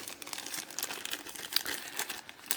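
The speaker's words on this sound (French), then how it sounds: "On va ouvrir le petit toolkit." Small diamond painting toolkit packaging being opened, with close, crisp crinkling and tearing of plastic in irregular bursts and no voices.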